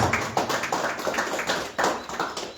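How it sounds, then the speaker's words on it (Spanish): Hands clap at a community gathering, a quick, uneven patter of applause from a modest group, close and steady for the whole stretch. "Vamos a darle un fuerte aplauso a cada uno"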